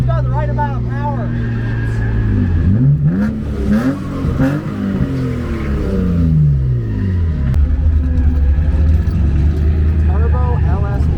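A turbocharged LS-swapped Mazda Miata drift car revs hard at a drift event, its engine note sweeping up and down through several loud, close pulls, with voices talking over the roar at the start and end.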